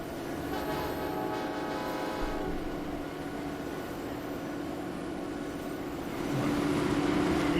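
Trains run in the video game Transport Fever 2, a continuous rumbling rail drone with a sustained horn-like tone that swells louder near the end, steady and fairly close.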